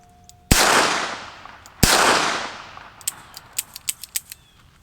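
Two sharp, loud gunshots from a Rossi Plinker .22LR snubnose revolver ring out about a second apart, each with a long decaying echo, followed by a quick series of fainter, distant pops.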